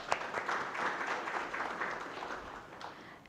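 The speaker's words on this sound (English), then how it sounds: "Let's have another huge round of applause for him." Event audience applauding after a speech at Novotel Goa, a moderate, steady patter of many hands heard from a distance, with a sharper clap near the start and a gradual taper toward the end.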